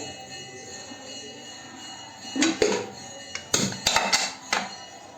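A pressure cooker holding dal is set up, giving a few sharp metallic clanks and knocks close by over a quiet kitchen background.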